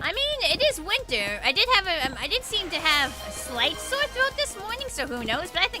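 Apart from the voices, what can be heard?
No distinct noise like a dog, phone or traffic.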